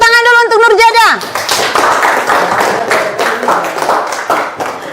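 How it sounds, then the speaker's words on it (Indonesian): Classroom audience clapping in an Indonesian teacher-training lesson, a burst of many hands just after a spoken cue, steady and fairly loud for several seconds with murmured voices underneath. "Tepuk tangan dulu untuk Nurjada."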